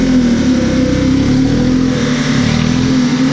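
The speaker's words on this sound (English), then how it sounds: "And he's revving that car again and again. What a noise!" A car engine revs hard and repeatedly at a service centre, a loud, steady mid-range roar held close up throughout with no talk over it.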